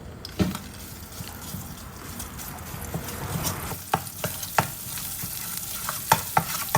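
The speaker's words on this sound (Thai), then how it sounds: "คราวนี้ก็ผัดพริกแกงให้หอมนะครับ" Red curry paste stir-frying in hot oil for a fresh mussel curry, a steady close sizzle broken by sharp scraping clicks of a spatula against the pan, growing busier toward the end.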